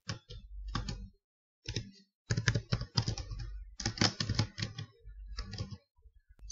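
Close typing on a computer keyboard while entering text into an Excel spreadsheet, bursts of rapid clicking keystrokes separated by brief pauses, alone with no talking.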